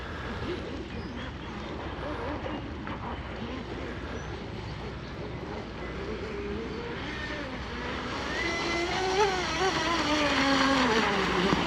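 A high-pitched electric motor whine from a carbon fiber RC race boat over water, steady at first, then rising and growing louder toward the end as the boat speeds up.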